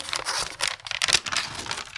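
A small paper surprise packet being torn open and unwrapped, giving a close, busy run of crinkling and rustling paper with a few sharper tearing bursts, and no voices.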